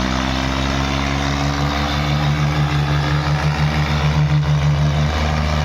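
A tractor engine idles nearby at a tractor tug-of-war contest, with a steady low throb and a constant droning hum, unchanging throughout.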